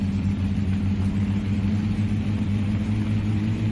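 A Satsuma rally car engine in a video game, down on power and running badly, gives a steady, low droning rumble with a rough, uneven hum throughout and no other sounds.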